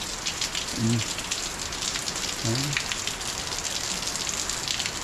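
Steady rain pours down outdoors as a dense, even hiss that fills the whole stretch, with a voice briefly speaking twice over it.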